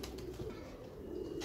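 Madrasi black pigeons cooing softly nearby, a low continuous throaty murmur with faint background noise and no talking.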